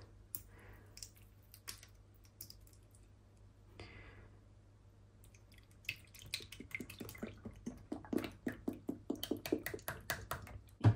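Cream drips from an opened 500-gram carton in a home kitchen while baking a cake, with faint scattered drops at first that build into a quick run of soft, close patters.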